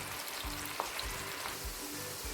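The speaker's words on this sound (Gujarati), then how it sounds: "આપણે સારી રીતે બધા કારેલાને સરસ રીતે તળી લેશું" Continuous crackling sizzle of bitter gourd frying in oil, close and steady, with a low rhythmic hum underneath and a few soft pops.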